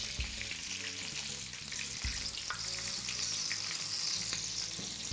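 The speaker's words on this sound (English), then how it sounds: "gonna fry it until you get that nice lovely goldish color look, which can take up to 5 to 6 minutes" Gluten-free chicken fries in oil with a steady, moderately loud crackling sizzle that runs unbroken, with faint clicks and knocks of the pan underneath.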